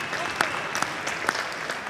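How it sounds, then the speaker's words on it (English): Sparse applause in a state House of Representatives chamber during a floor session, a few scattered individual claps at an irregular rhythm over a light background hum. "Yeah, you can clap."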